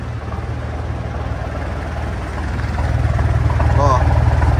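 A 1994 Ford F1000 Super Cab pickup's MWM 229 turbo intercooler diesel runs through a 4-inch exhaust, a steady low rumble with a faint whine that grows slightly louder toward the end.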